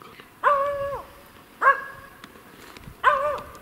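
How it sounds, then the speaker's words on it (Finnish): A Finnish Spitz barks at birds, three sharp, ringing barks spaced about a second apart from moderately close by in quiet outdoor surroundings. "Nyt se on tuossa minun hiihtolavulla seuraavaksi haukkuu tuolla selän takana."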